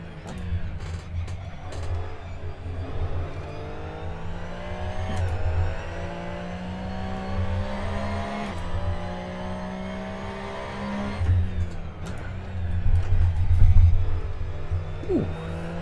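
A Porsche 911 GT3 Cup 2017 race car in Assetto Corsa at VIR holds a loud, steady engine note for the whole stretch, climbing and dipping with throttle through quick upshifts, with a deep low drone beneath.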